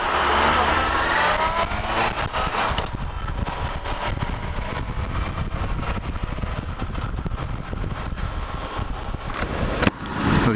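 A motorcycle engine drones steadily with rushing wind noise, loud and close, as if riding along at speed through Cardiff.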